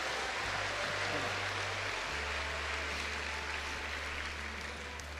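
A church congregation claps together in a steady, dense wash of applause that holds for about five seconds, with a low hum running underneath.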